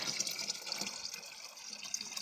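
Rainwater runs steadily into a barrel, a continuous hissing trickle heard close but fairly quiet, with no talk.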